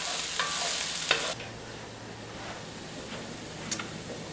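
Onions and celery sweating in a pan give a loud, steady sizzle with stirring scrapes for about the first second and a half. After that the sound drops to a faint, low hiss with a few light clicks.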